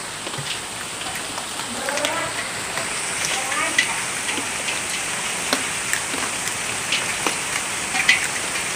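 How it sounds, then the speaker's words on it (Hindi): Heavy rain falls steadily in the evening in Dehradun, a dense hiss with scattered sharp drop taps, continuous and fairly faint, with no voices. "और बहुत अच्छी बारिश सी होने लगी है, शायद आपको आवाज़ भी आए।"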